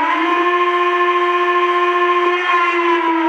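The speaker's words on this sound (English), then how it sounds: "This is my favorite whistle by far." Lionel Vision Line Santa Fe 2-10-10-2 model train sounding a steam whistle: one loud, steady chime tone held without a break, close and alone with no talk.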